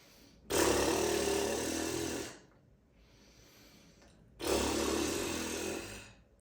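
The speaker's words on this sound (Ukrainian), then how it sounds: "Подуємо в них сильно, гарним глибоким видихом." Two long, strong exhalations blown through relaxed lips in a lip-trill warm-up, each a loud buzzing flutter lasting about two seconds, separated by a quiet pause.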